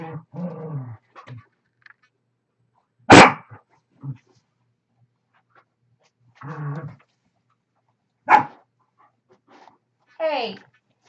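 Dogs indoors give a few sharp, separate barks and some low growly vocal bursts spread across quiet gaps, loud and close, with a person's voice heard briefly among them.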